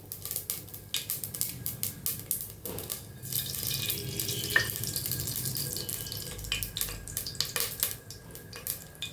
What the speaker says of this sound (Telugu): సో ఇవైతే బాగా వేపుకుంటున్నాము.